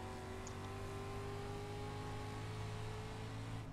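A street stock race car engine at USA drones with a steady, faint, tonal hum that holds one pitch throughout, distant and alone with no voices.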